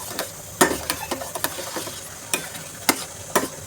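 Ghee being stirred into a traditional Gujarati ghens chora dish in a pot: a series of sharp scraping and clanking spoon strokes, unevenly spaced, close and fairly loud over a soft simmering background.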